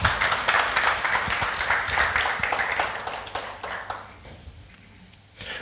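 Audience applause for Mélinda at a church sermon gathering, a broad moderate patter of clapping that runs steadily for several seconds, then thins out and fades toward quiet near the end.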